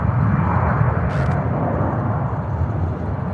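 An American Airlines airliner departing Charlotte airport produces a loud, continuous jet roar, heavy in the low rumble, steady throughout with one brief high hiss near the start.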